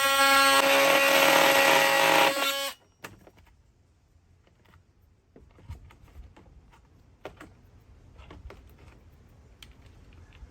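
A carbide general purpose bit drills into plastic on a Sprinter van seat install, a loud steady whine for under three seconds that cuts off abruptly, followed by faint scattered clicks and handling noises.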